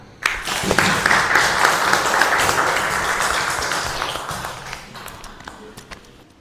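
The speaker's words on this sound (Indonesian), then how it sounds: "Oke, tepuk tangan." Students applaud together in a classroom, a dense burst of many hands clapping that starts abruptly, holds steady for several seconds, then gradually thins out and fades away.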